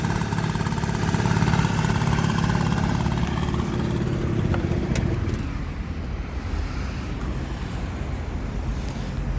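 A small Honda Dio AF34 scooter engine, kickstarted, runs loud and close, a steady rattling drone that eases slightly partway through.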